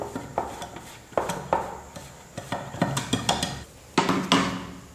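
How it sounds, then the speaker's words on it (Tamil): Oil being spread over a metal cake tray for a wheat cake, heard as a series of light scraping taps and clinks in uneven clusters, close and fairly quiet, with no talking. "எண்ணெய் அப்படி இல்லைன்னா வெண்ணெய் வந்து நீங்கள் நல்லா ஸ்ப்ரெட் பண்ணி விட்டுடுங்க. ட்ரே ஃபுல்லாக நல்லா தேய்ச்சி விட்டுருங்க."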